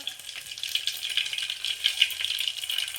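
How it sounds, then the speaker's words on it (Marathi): Garlic, mustard seeds and cumin hitting very hot oil give a continuous bright crackling sizzle, close and moderately loud, with small pops scattered through the steady hiss. "तेल मस्त कडकडीत गरम झालं आहे. आता मी लसूण घालून घेते ह्याच्यामध्ये. त्याच्यानंतर मोहरी, जिरं"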